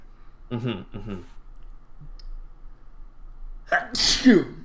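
A single loud, explosive sneeze bursts out near the end, after a brief bit of talk and a quiet click.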